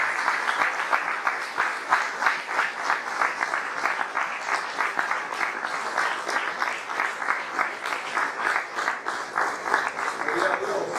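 A church congregation applauds steadily and loudly for the Lord, a dense sustained clapping that carries on without pause.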